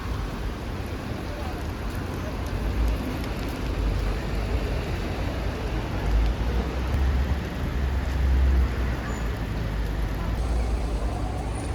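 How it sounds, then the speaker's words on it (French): Hail falls on a day in Berlin, a dense, continuous pattering roar that stays steady throughout, with faint traffic-like rumble underneath. "En fait, il pleut pas, hein. Il grêle."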